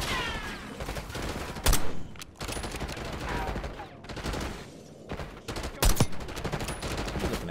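Video game gunfire in Black Ops 6 campaign, with rapid automatic bursts and sharp single shots in loud, dense volleys, and a voice talking over them.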